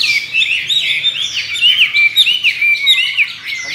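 A Chinese hwamei songbird sings loud and close, a continuous stream of bright, varied whistles and rapid chirping phrases that rise and fall without pause.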